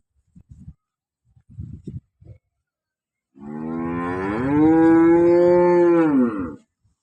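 After a few short knocks, a cow lets out one long, loud moo lasting several seconds, close by.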